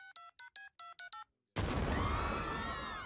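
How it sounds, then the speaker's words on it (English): A phone keypad dialing in an animated comedy scene, six short electronic tones in quick succession, then a sudden loud explosive boom that fades off. "Maybe I dialed wrong."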